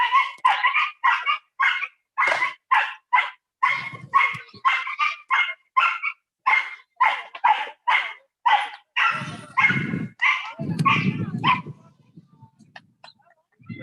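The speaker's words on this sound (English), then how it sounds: "taking a little intermission while these dogs greet each other" Several dogs bark and yip repeatedly as they greet each other on a street in Elmhurst, Queens, a rapid string of sharp, fairly close barks with a few lower growls near the end.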